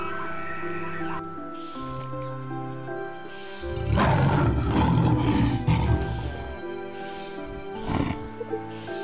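A Siberian tiger gives a deep, powerful roar up close, with a loud burst in the middle and a shorter growl near the end, heard over a sustained orchestral music bed in the Primorye region.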